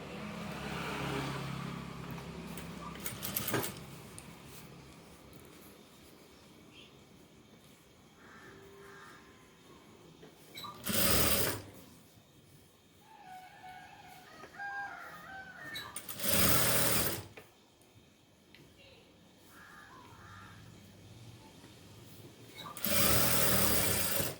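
Sewing machine stitching a folded drawstring casing on fabric during a tailoring lesson, heard as three loud, rapid whirring bursts of a few seconds each, separated by quieter handling noises.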